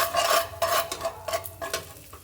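Fresh oil and a little salt sizzle in a pan with potatoes just lifted out, heard as several close scraping stirs over a light hiss.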